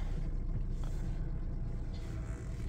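A Honda City 1.5 car engine idles steadily after starting, a low continuous rumble that stays even and fairly close throughout.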